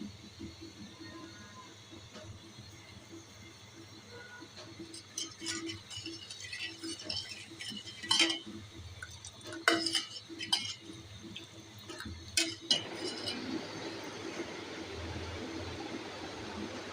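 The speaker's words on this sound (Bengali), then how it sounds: "এইভাবে একটু পর পর নাড়াচাড়া দিয়ে নিতে হবে।" A spoon stirs milk gourd curry in a pot in a village kitchen, giving scattered metallic clinks and scrapes at close range, then a steady low bubbling simmer toward the end.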